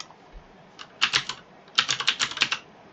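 Fingers tap on a computer keyboard in two short bursts of quick, close keystrokes, separated by a brief pause, with no talking.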